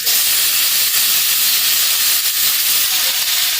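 Garlic, green chili and taro stolons fry in a pan with a loud, steady hiss that holds without pause for a few seconds, close and bright, with no talking.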